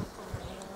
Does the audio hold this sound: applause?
no